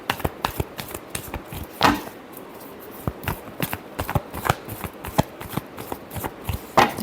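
Tarot cards are shuffled by hand in a steady series of crisp, close riffling snaps and flicks, with a few louder bursts and no talking.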